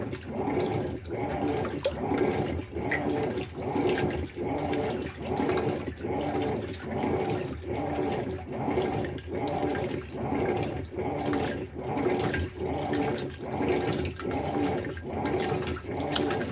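A Whirlpool Cabrio washing machine churns water in steady, rhythmic surges just under a second apart, a continuous close sloshing wash with no voices.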